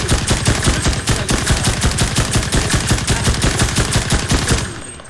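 Rapid, steady bursts of gunfire from a slow-firing gun in the shooter game Enlisted, loud, close and evenly spaced for about five seconds before cutting off sharply.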